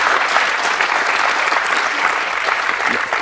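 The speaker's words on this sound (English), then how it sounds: "Thank you for clapping genuinely" An audience applauds at the end of a talk, with dense, continuous clapping from a large crowd filling the room at a steady, loud level.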